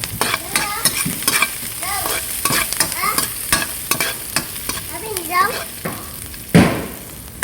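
Food frying in a pan with repeated stirring and scraping strokes, a steady sizzle throughout and a louder clatter near the end, with a voice speaking briefly in the background.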